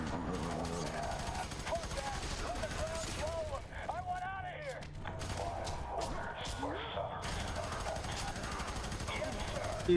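Rapid gunfire in the video game F.E.A.R. 3 rattles in bursts, mixed with game effects and crashes, fairly quiet and continuous throughout.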